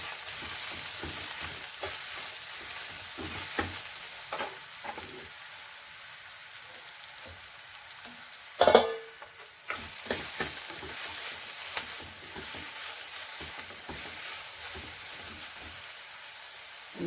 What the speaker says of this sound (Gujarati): આપણું તેલ આવી ગયું છે અને મસાલામાંથી જીરું નાખીશું અને મસાલા નાખીશું